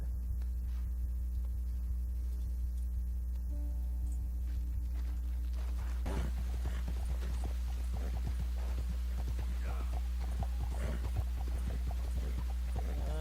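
Horse hooves clip-clop in a steady walking rhythm in the Red Dead Redemption 2 video game, starting partway through and continuing over a constant low hum.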